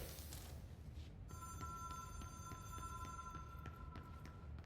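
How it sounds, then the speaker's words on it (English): A telephone in the video game Control rings faintly with a steady electronic warble, repeating tones over a low rumbling hum of background ambience. "Will somebody please answer that fucking phone?"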